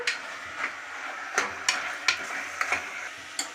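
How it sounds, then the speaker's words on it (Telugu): Food being stirred in a cooking pan, with a spoon scraping and knocking against the pan in irregular strokes over a soft background sizzle, close by and without talk. "కలదిప్పాలా."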